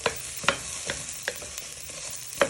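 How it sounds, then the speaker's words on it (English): Potatoes, carrots and onions sweating in a hot pan, a steady soft sizzle broken by several sharp stirring scrapes and clacks spaced roughly every half second to second, close and fairly quiet. "So you're just sweating these, put some colour on them for about 2 to 3 minutes"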